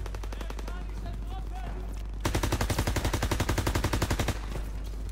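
Rapid bursts of automatic gunfire in Call of Duty: WWII on PS4 crackle in a fast, even rhythm for about two seconds over a steady electronic hum.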